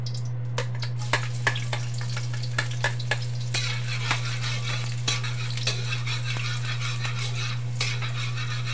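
Garlic sautés in oil in a pan for Ilocano pakbet, giving a continuous close sizzle broken by scattered sharp clicks of a utensil against the pan, with a steady low hum underneath and no talking.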